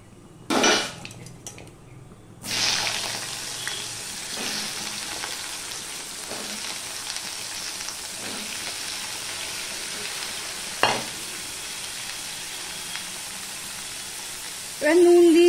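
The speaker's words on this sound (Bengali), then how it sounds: "এবার এই আলুটুকু আমি দিয়ে দেব।" Cut potatoes tipped into hot oil tempered with black cumin for a simple curry, giving a loud sizzle followed by steady frying hiss with occasional utensil clatter, while a person talks over it.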